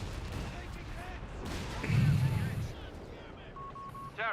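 Mortar pit firing in Company of Heroes 3, a single heavy thump near the middle among scattered battle noise, with a voice talking over it.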